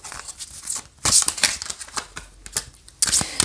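Tarot cards being drawn and handled during a reading, heard as a series of close, crisp papery flicks and slaps in uneven bursts, with no talking.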